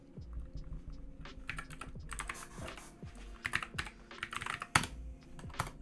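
Fingers type on a computer keyboard during web development work, rapid irregular clicks and clacks with short bursts and pauses, close and alone with no voices.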